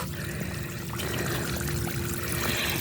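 An outdoor tap runs water in a steady, continuous pour, loud and close, with no voices over it.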